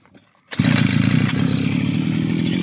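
Small petrol engine, the motor of a garden string trimmer fitted with a new head and line, kicks into life after a brief quiet start and runs steadily with a loud, buzzing chainsaw-like drone.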